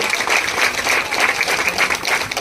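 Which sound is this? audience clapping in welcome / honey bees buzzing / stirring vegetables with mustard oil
audience clapping in welcome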